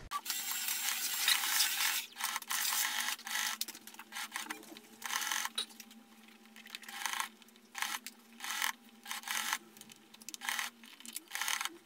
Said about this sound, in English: I'm going to be sewing all around, respecting 1 centimeter of seam allowance